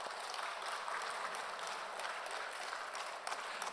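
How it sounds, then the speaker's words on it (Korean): A church congregation gives sustained applause during a Sunday service, a soft, even roar of many hands clapping together, heard from a distance and continuing without pause. "영광의 박수 하나님께 돌리겠습니다."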